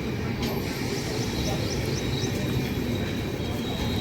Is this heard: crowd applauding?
no